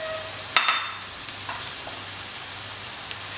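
Onions sauté in a pan for a Punjabi chicken curry, a soft steady sizzle with a few clinks and stirring scrapes near the start.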